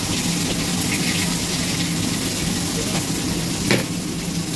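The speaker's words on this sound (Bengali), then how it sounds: "এবার এর মধ্যে একটুখানি জিরে ফোড়ন দেবো, একটু শুকনো লঙ্কা দেবো" Cumin seeds and dried red chillies sizzling in hot oil in a pan, a steady dense hiss that stays loud and even throughout, with a brief sharper crackle near the end.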